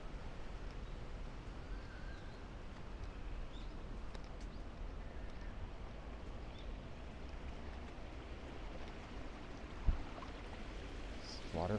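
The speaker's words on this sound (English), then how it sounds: "the sound of water flowing is good" Steady, soft hiss of an artificial water stream flowing in a Tokyo Midtown shopping mall, continuous and faint throughout with a brief thump near the end.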